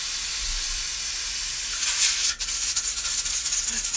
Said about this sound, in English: There's a constant stream of steam coming out of that valve right there